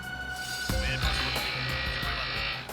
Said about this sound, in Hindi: ग्राइंडर की आवाज आ रही थी।